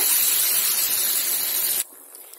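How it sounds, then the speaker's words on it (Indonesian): Blended spice paste for sambal belimbing wuluh hits hot oil in a loud, bright sizzling rush that holds steady for nearly two seconds, then cuts off sharply, leaving a faint hiss. "Oke, minyaknya sudah panas. Saya masukkan bumbu yang sudah di blender."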